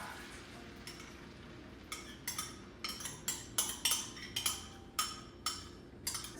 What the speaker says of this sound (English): keeps providing the oil for me to cook the eggs